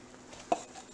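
A utensil stirs and scrapes seafood farfalle with shrimp against the bottom of a pot, two sharp metallic clinks over faint stirring noise, close and without talk.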